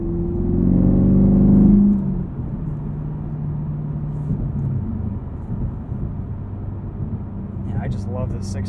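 A GM performance car with a V8 and a 6-speed manual revs loudly at first, then settles into a steady low engine drone while driving, with a brief higher sound near the end.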